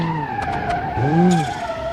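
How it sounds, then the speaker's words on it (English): A rally car in the BeamNG.Drive racing game slides sideways on the handbrake, tires skidding and squealing over a steady engine drone for about two seconds, with no talking. "I got on the handbrake a bit early there. It actually slid me out the wrong way."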